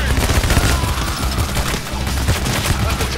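SMG fire in the video game Payday The Heist, a loud continuous rattle of rapid shots forming a dense, unbroken barrage for the whole moment.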